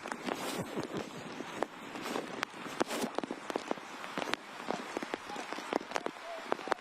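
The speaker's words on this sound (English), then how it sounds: "Raindrops and floodlights." Rain falls steadily on an open-air football stadium under floodlights during a weekday lunchtime youth match, a dense patter with scattered sharper drop hits and faint crowd or pitch sounds beneath, no clear speech.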